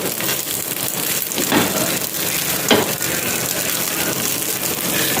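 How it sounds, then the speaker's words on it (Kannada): Taro leaf patrode fried on both sides in a pan, giving a steady, fairly loud sizzle with soft crackling and a couple of brief louder stirring or turning noises, no voices. "2 ಸೈಡು ಒಳ್ಳೆ ಫ್ರೈ ಮಾಡಿ."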